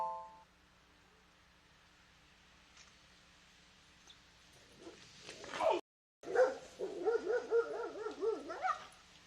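Dog barking and whimpering at a delivery driver, quiet at first, then a burst of excited barks and whiny yips growing louder in the last few seconds, with no talking.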